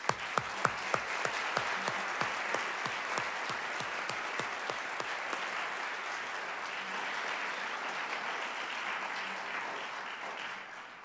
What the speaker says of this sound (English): So let's give these students an early round of applause.